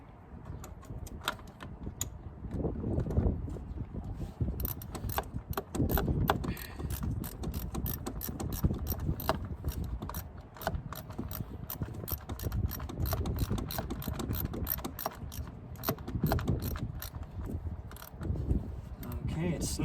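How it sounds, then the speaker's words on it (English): Ratchet tightening the 8mm boot clamp on a 7th generation Honda Civic, rapid repeated clicking in bursts over several seconds, close up, with occasional talk underneath. "I'm gonna snug those, and we're gonna tighten this boot back"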